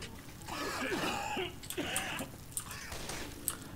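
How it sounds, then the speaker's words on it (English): Character coughing and clearing the throat in the video game Left 4 Dead, a few faint raspy coughs spaced over a few seconds with quiet game sound beneath. "It's a healthy cough, Bill"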